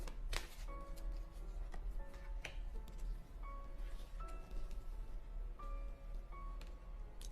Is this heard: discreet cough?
no